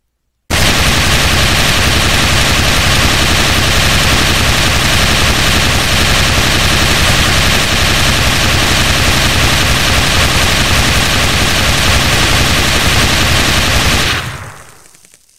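A machine gun in a video game fires one unbroken, loud, dense burst of 7.62 high-calibre rounds for about fourteen seconds, then stops abruptly, with no talking.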